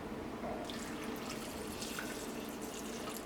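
Water poured into a pot of raw plantain pieces for a Kerala-style kaya thoran, a steady splashing pour that starts loud partway in and runs on without pause, with no voices.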